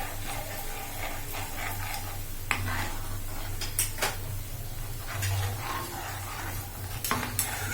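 Achari begun, a pickled-spice eggplant dish, being stirred in a cooking pan, with steady scraping and clinking of a utensil against metal over a low background hum and a faint sizzle, no talking.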